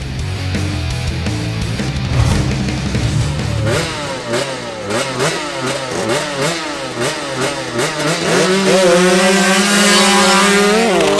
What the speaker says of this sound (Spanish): El primer duelo es entre una Kawasaki Victor versus una Yamaha RX.